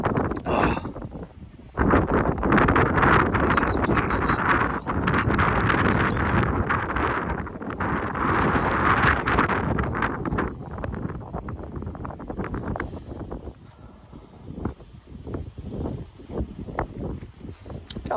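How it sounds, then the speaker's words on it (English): Strong gusting wind buffets a microphone outdoors near horses, a loud broadband roar that swells and fades for most of the stretch, then breaks into scattered crackling bursts toward the end. "So hopefully my body is blocking the wind."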